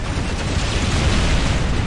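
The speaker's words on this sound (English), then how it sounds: "that huge explosion you just saw then" A Grot tank explodes in the Dawn of War Ultimate Apocalypse strategy game, a loud, dense roaring blast of rumble and crackle filling the whole moment with no voices.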